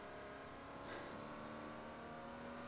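A Citroen city car's engine in the Forza Motorsport 4 racing game hums at a steady drone with layered harmonic tones, rising a little for a moment around the middle, with no talk over it.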